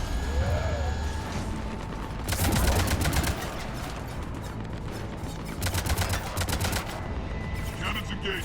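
Rapid bursts of heavy cannon fire in Mass Effect 3 Legendary Edition, two loud volleys separated by mechanical clanking and electronic tones, with brief speech.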